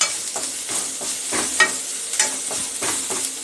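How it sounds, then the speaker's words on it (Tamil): Homegrown curry leaves sautéed in a pan for pirandai thuvaiyal, a crisp steady sizzle broken by rhythmic stirring scrapes, close and alone. "இதை ஒரு 5 நிமிஷம் நல்லா வதக்கிட்டு நல்லா அப்படியே முருகலாக வந்ததும் எடுத்து ஆஃப் பண்ணிடலாம் ஸ்டவ்வை"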